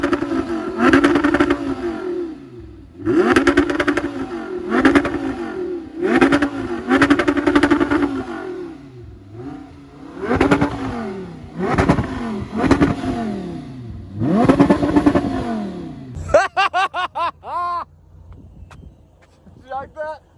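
An Audi R8 V10 revs repeatedly and loudly, its exhaust rising and falling in bursts, then crackling sharply at the end. Voices are heard alongside it.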